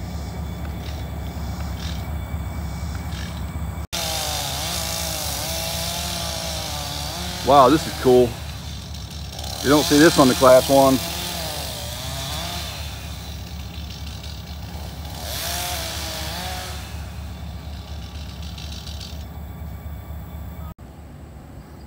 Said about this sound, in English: Got to cut the tree off with a chainsaw.